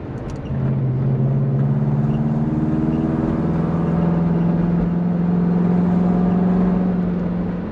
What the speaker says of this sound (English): That's a bad exhaust.